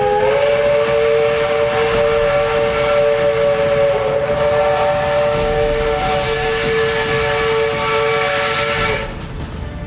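A train on a rail journey sounds a long, loud steam-type whistle that holds steadily for most of the stretch over rumbling rail noise, then cuts off near the end, leaving the train running on.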